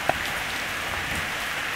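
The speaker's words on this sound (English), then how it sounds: "it's pouring down rain, our favorite." Steady, heavy summer rain pours down in Portland as a continuous dense hiss, with one brief drip-like tap near the start and no voices.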